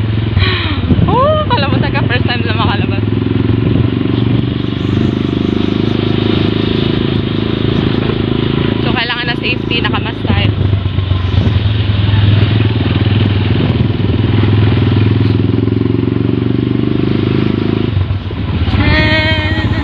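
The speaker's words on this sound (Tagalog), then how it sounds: "Nakasakay ako sa motor." A motorcycle engine drones loud and steady from a rider's position throughout, with a constant low hum and brief bumps and shifts in pitch along the way.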